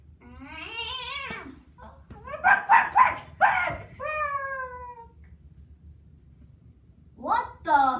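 A barking toy lizard gives out a run of harmonic, yelping dog-like barks, close and fairly loud, with a second burst at the end after a short quiet gap.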